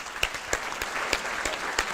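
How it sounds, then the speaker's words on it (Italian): Audience applause fills the hall at the 2025 Veneto Paralympic sports gala, a steady close ovation with sharp individual claps popping out of the dense patter at an uneven rhythm. "Gianluca, mi permetto di far lasciare l'applauso a Giusy Versace"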